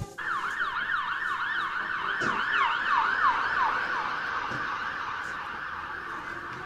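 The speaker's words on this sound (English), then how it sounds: "an ambulance producing its siren speeds past you" A wailing ambulance siren sweeps up and down repeatedly, loud and close, then gradually fades as the vehicle moves away with road noise underneath.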